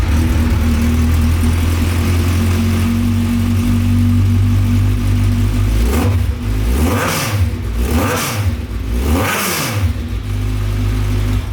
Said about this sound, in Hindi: तो आपको मैं सुनाता हूँ आवाज़ Ninja 1000 की, जिसमें लगा हुआ है ब्लैक विडो का फुल सिस्टम एग्जॉस्ट